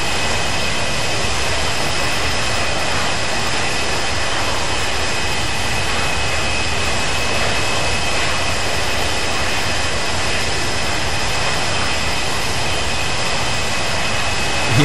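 Jet engines of an ERJ-145 regional jet, heard from an outside view in a flight simulator game, roar loudly and steadily as a constant, dense whine throughout.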